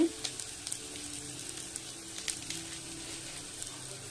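Pasta sautéing in a pan with chilli powder, chicken masala and garam masala, a low continuous sizzle with scattered light ticks and spatula scrapes, soft and close, alone.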